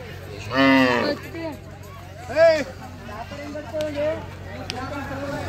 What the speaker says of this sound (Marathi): वासरं सगळी बारक वासरं